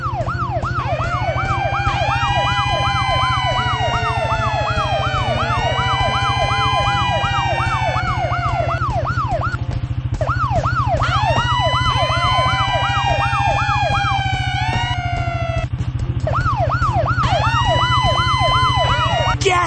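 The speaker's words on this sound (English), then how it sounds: "To turn our sirens on and off, use your mouse to click on the fire trucks." Looping electronic fire truck sirens in a children's video game wail continuously over a low steady hum, several overlapping rising-and-falling tones repeating in cycles, loud and close.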